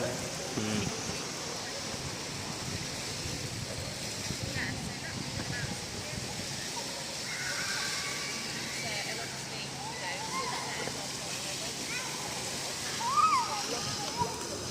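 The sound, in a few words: water flowing and splashing at a bathing spot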